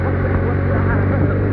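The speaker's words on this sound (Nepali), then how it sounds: "बाइक चाहिँ झन्किन्छ" A motorbike rides along a hillside road through green hills, its engine a steady, continuous hum with wind buffeting throughout, close and fairly loud, under a talking voice.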